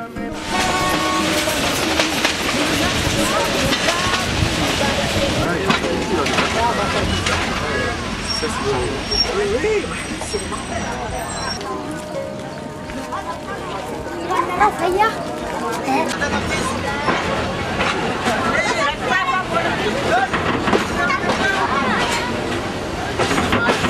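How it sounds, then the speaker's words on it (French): A train pulls into a station in Madagascar, its cars clattering and rumbling loudly up close while a horn sounds and people talk over the noise. "Le train entre en gare et il nous faut prendre possession de nos places."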